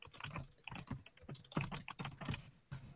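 Rapid, irregular clicking of keys on a computer keyboard, close up, as someone types in quick bursts with brief pauses.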